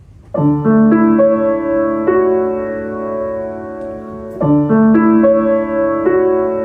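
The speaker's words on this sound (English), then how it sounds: "you can use your thumb to move up to the 9" Solo piano rolling up through chord tones, letting them sustain and fade, then repeating the same broken chord pattern a second time.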